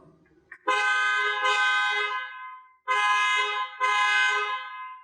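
A StarLine car alarm blares loudly in long, harsh horn blasts, two pairs of honks separated by a short gap, close by.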